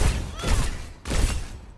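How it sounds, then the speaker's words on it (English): Hazard's spike-burst primary fire in the video game Overwatch comes as two heavy, punchy bursts about half a second apart, each a loud blast that fades into a short rattling tail. "So, fires a burst of spikes"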